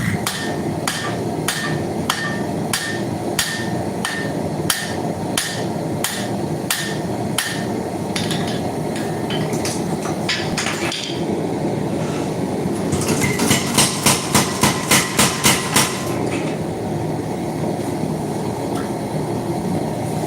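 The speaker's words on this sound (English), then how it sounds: "So there will be a little bit of hand forging." Hammer blows hand forging a railroad spike into a tomahawk, loud ringing strikes at a steady measured rhythm, then a rapid flurry of quicker blows; close and alone, no talk.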